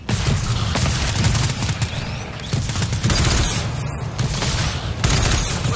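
Sustained machine gun fire in modded GTFO, a dense, loud clatter of rapid shots with occasional heavier booms, running continuously without a break and with no voices.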